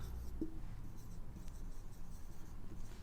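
A query-language example is written on a board during a lesson, with soft, faint scratching and one short tap over a steady background hum.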